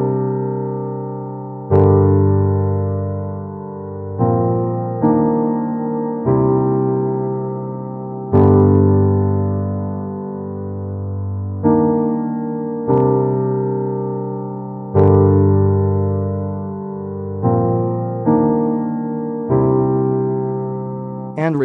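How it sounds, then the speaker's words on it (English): Piano chords with a reverb effect added in FL Studio Mobile, each struck chord blooming and decaying in a long wash, steady rhythm of held harmonies with no talking. "Select reverb."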